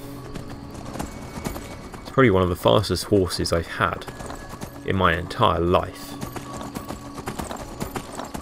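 Horse hooves in Skyrim, the video game, clop in a fast, steady gallop throughout, with someone talking over the rhythmic beats for much of the stretch.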